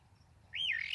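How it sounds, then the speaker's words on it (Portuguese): Birds chirping and calling in the open countryside at a reservoir dam, a loud rising-and-falling song entering midway over soft background hum. "Os pássaros tudo cantando."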